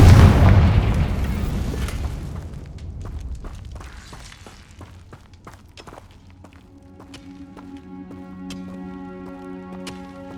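A Confringo blasting spell explodes in Hogwarts Legacy, giving a single loud booming burst at the start that rolls off into a long fading rumble, followed by scattered light clicks and footstep-like taps, with a steady tone later on.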